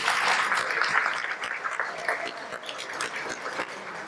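Audience applause for an event committee, a steady dense patter of many hands clapping throughout, fairly loud and continuous with a slight easing toward the end.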